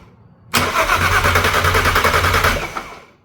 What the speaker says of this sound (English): so we got the engine turning